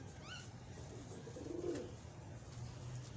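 Pigeons kept for sale coo softly in low, rounded murmurs that swell briefly and then fall away, faint against a steady background hum.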